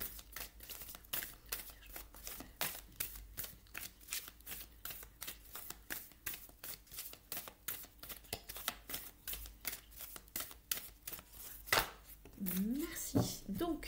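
Tarot cards shuffled and drawn by hand at close range, a steady run of quick papery riffles and slaps continuing throughout, with a brief spoken phrase near the end.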